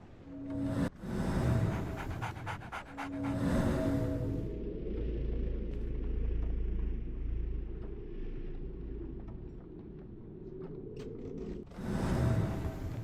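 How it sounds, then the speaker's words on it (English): A dog pants in the Sherlock Holmes The Awakened video game, rapid rhythmic breathy bursts at the start and end around a low rumbling ambient stretch with occasional faint clicks. "So, Barnes has a dog now."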